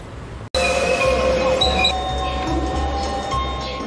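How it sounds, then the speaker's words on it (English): A London Underground train runs loud and close after an abrupt start, its steady rumble carrying high metallic whines and wheel squeals that rise and fade over a few seconds. "he will get an underground train to Monument Station"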